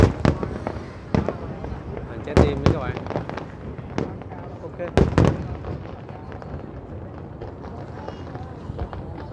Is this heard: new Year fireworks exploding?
yes